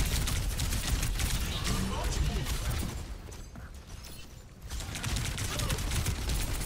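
Rapid gunfire from an Overwatch 2 quickplay match, dense and continuous with a brief dip midway, layered with chaotic game effects and a voice talking over it.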